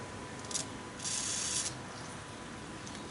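Penetrating lubricant sprayed from an aerosol can onto a pallet jack: two close hissing bursts, the first short and the second longer, over a steady background with no talking.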